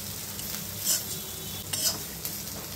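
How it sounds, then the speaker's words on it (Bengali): Onions frying in a pan with a little salt and turmeric, a steady soft sizzle with a few brief louder scrapes of stirring, close and alone with no voices. "পেঁয়াজগুলোকে হালকা লাল করে ভেজে নেব"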